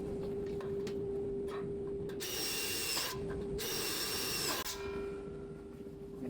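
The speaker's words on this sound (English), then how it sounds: "I like to pre-drill 2 holes on each side." A power drill pre-drills holes in a metal post bracket for a flyover patio carport, with two sustained whining bursts of drilling over a low background hum.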